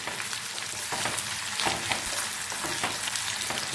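Onions fry briskly in a pan for chicken khichdi, giving a constant dense sizzle with occasional soft stirring knocks, close and even.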